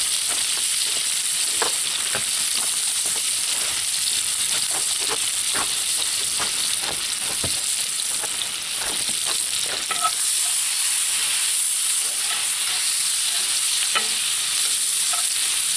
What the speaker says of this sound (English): Just let that saute up quick in the bacon fat